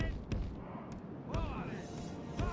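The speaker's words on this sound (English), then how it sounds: "And as you can see, we've got our cannons." Culverin cannons fire at castle walls in the Medieval 2 Total War: Britannia video game, several sharp, fairly faint booms spaced about half a second to a second apart under battle noise and a talking voice.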